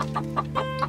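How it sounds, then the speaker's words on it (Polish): Colourful green-legged roosters give short, rhythmic clucks, about five quick bursts in under a second, close and fairly quiet. "Piękne te koguty są."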